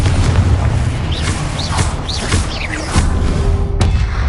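Confringo fire spell explosions in the Hogwarts Legacy video game, booming repeatedly over a constant low rumble of game sound, with whooshing magic effects between the blasts.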